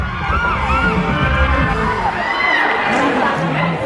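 A large crowd screams and cheers loudly and continuously at a Thai drama awards ceremony, high-pitched shrieks overlapping throughout.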